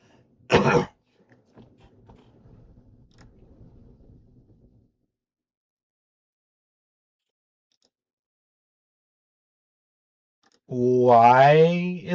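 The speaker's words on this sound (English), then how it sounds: "I got a cough." One short, sharp cough from a person at a computer breaks the near silence, followed by faint low murmuring and a long quiet stretch, then a voice speaks near the end.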